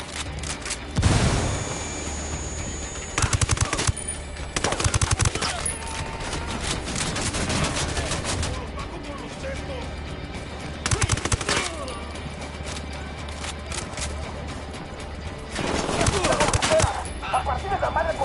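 Heavy gunfire in Ghost Recon Wildlands: repeated automatic bursts and sharp shots, with a few booming blasts, firing loud and close in irregular clusters across the whole stretch.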